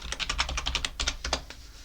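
Rapid typing on a computer keyboard, a quick run of crisp, close key clicks with brief pauses, quiet overall and with no voices.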